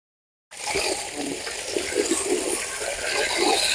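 Water from a solar-powered submersible pump used for farm irrigation bursts in after a moment of silence, then gushes in a loud, steady rush that keeps building.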